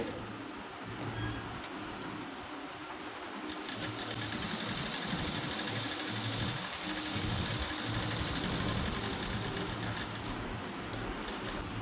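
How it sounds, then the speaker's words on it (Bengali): A sewing machine runs steadily as it stitches palazzo pant fabric, giving a close, continuous mechanical whir with fast rhythmic ticking that grows a little louder partway through. No one talks. "লব সেলাই করবো এটা লব সেলাই হচ্ছে"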